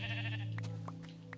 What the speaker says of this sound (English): Look at that sheep up there.